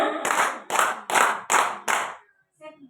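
A classroom of students claps in unison five times, evenly spaced and close, each clap a sharp crisp burst, followed by a faint voice at the end.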